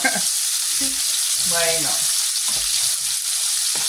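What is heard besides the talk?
potatoes frying in pan for chicken stew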